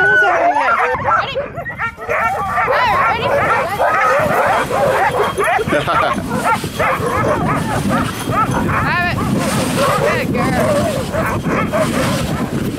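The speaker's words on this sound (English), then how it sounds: "Those are happy dogs up here." Many sled dogs on an Alaskan glacier bark, yip and whine excitedly all at once in a continuous, loud chorus, close by, with barely a pause.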